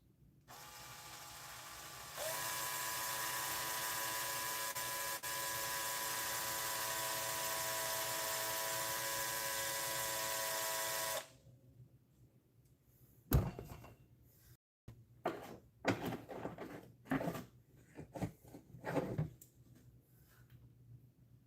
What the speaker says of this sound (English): I do need to drill this out.